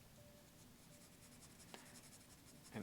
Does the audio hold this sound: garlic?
no